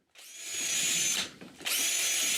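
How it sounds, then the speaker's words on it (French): A power drill bores screw holes into wood at a chalet, running loud and steady for about a second, dipping briefly as the bit eases, then whining again at full speed. "Je dois percer des trous pour les vis."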